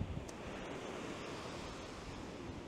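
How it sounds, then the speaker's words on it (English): Ocean waves break on a windy beach near a pier under heavy surf with many whitecaps. The wash is a continuous, loud roar with wind rumbling against the microphone and no distinct gaps between breakers. "the weather, a lot of waves today, a lot of white caps"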